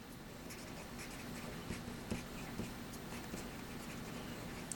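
A pen scratches across paper while a division problem is worked out by hand, a steady close scraping with small taps, quiet and continuous without speech.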